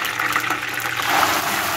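Water drains off boiled saluyot (jute) leaves as they are strained for a Filipino laing dish: a steady, fairly loud rush and splash of liquid that runs continuously for under two seconds.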